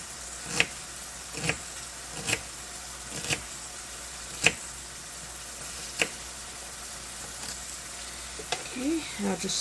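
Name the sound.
meat and onion frying in a pan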